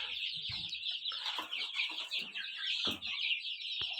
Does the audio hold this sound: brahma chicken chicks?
yes